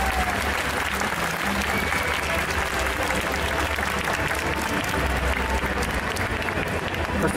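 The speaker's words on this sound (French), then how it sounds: "On va l'applaudir très, très fort." Audience at an indoor dance competition applauds loudly and steadily without a break, a dense wash of many hands with crowd murmur underneath.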